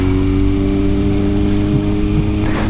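Honda 1000cc motorcycle engine running loud and close, a steady droning hum that holds even throughout with a brief rise at the very end.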